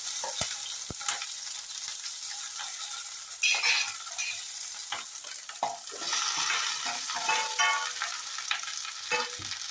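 Slit okra and green chillies sizzle and crackle in hot oil over mustard seeds, with intermittent scraping as a spoon stirs the pan, close and fairly quiet.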